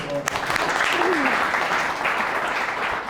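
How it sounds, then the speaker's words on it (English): Applause from an audience at a sales talk, a steady wash of clapping lasting a few seconds, fairly loud and continuous. "Round of applause."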